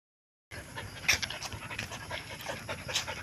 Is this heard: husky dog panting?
yes